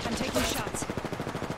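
Rapid gunfire in Apex Legends, a fast rattling volley of shots heard close and steady through the whole moment, with faint voices mixed in.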